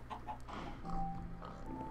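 Chickens clucking in the video game Minecraft, short clucks and squawks over a continuous dense game backdrop, moderately loud.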